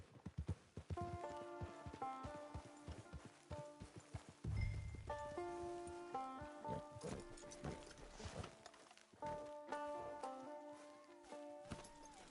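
Steady clip-clop of horse hooves walking in Red Dead Redemption 2 Online, with a brief snort, over gentle melodic music playing throughout.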